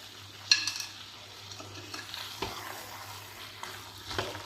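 A spatula stirs quail roast with a teaspoon of garam masala and coriander leaves in a pan, making soft scraping strokes and light sizzling, fairly quiet and close.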